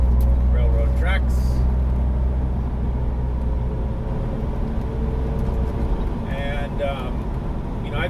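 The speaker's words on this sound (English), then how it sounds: "So you can see we're just kind of gliding over these railroad tracks." A car in drive rolls over railroad tracks with a steady low road rumble and cabin hum, a few brief bumps early on, and a voice talking over it.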